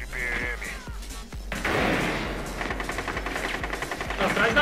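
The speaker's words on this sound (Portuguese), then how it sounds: "Atirando granada de PM." Gunfire in Rainbow Six Siege with a grenade launcher, rapid bursts of shots and a heavy blast with rumbling debris, loud and close, under excited voices calling out in the game.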